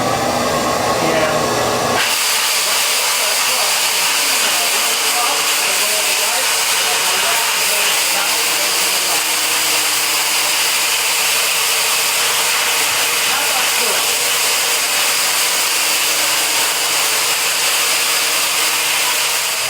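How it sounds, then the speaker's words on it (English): A vacuum switches on and cleans a concrete floor after diamond grinding ahead of an epoxy coating, giving a loud, steady high whine and hiss that holds from the first seconds to the end. "I'll put on the vacuum"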